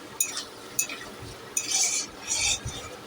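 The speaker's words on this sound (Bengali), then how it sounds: "ভালো করে একটু কষিয়ে নেব" Spice paste sautéing in oil in a pan, spoon scrapes and clinks against the metal in a few separate strokes over a quiet sizzle, close up and without speech.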